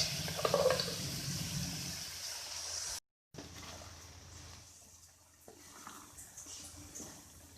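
Water pours into a pan of spiced chickpeas cooking with a tomato and onion paste, a steady close splashing rush for about three seconds before a brief break and a softer, fainter sizzle.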